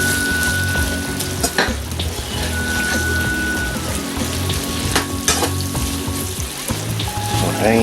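Garlic and onions frying in a pan as they are stirred and moved around, with loud close sizzling and a few scraping utensil knocks and clatters throughout.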